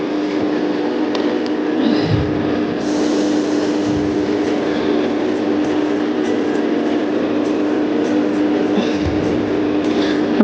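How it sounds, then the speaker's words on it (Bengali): A metro rail train runs at speed, heard from inside as a loud steady rumble and roar with a sustained hum, occasional low thumps and faint rail clatter, no voices. "আমাদের বেশ ভালো লাগে মেট্রো রেলে চড়তে।"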